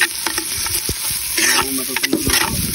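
Ginger sizzles in a pan with garlic and onion for lugaw, a close crackling hiss broken by repeated clinks and scrapes of a stirring utensil, with brief talk over it.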